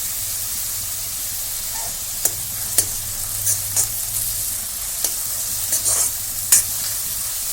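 Curry leaves and onions sizzling in a pan, a soft continuous hiss broken by several sharp crackles and spits as the leaves hit the oil.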